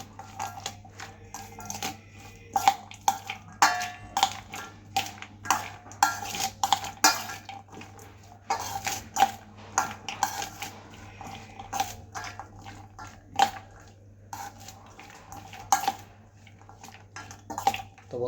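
Chana masala being mixed in a bowl: a series of irregular clinks and scrapes of a spoon against the dish, close and moderately loud, repeating unevenly over a steady low hum.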